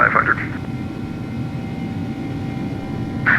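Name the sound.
Airbus A300-600F airliner climbing after takeoff in X-Plane 12 video game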